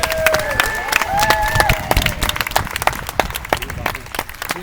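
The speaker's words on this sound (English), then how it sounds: "I would like everybody to give a round of applause to Monmouth College for letting us use their facilities today." Audience applause and cheering from a crowd at a Tea Party rally held in college facilities in Monmouth, Illinois, with dense clapping and a few whistles, sustained and fairly loud throughout.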